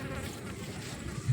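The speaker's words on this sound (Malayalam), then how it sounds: "ഇവിടെ ഈച്ചയൊക്കെ പറ്റും" Flies buzz faintly at Ayiravalli Para rock at Inchakkad, Kottarakkara in Kollam, a soft steady insect drone over outdoor ambience, with a slightly louder pass near the end.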